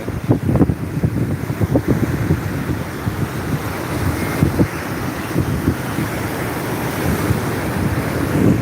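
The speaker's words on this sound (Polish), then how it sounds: "Pewnie jakoś audio jest słaba, bo wiatr na pewno" Steady wind buffets the microphone outdoors, a continuous low rumble with gusty bursts throughout, with no talk over it.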